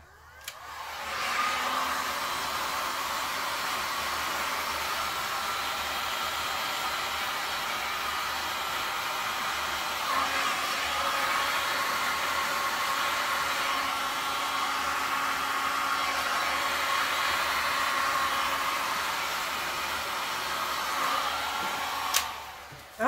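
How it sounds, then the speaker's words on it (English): A heat gun blows steadily over a freshly poured resin piece in a cup and bottle cap, a continuous close whooshing airflow lasting about twenty seconds with a brief dip midway and no talking. "I'm not going to do much more with the heat gun"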